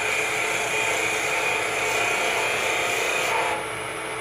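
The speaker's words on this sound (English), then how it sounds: "I sharpened my tool again and I went a little faster." A sharpened lathe tool cuts into a wooden pen blank, giving a steady, close scraping hiss with a slight rasp that eases toward the end.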